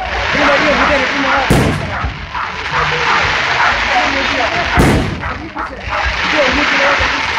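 Festival fireworks at a feast of Sant'Anna: two heavy booming blasts a few seconds apart over a dense, rumbling crackle, loud and outdoors, with people talking in the crowd.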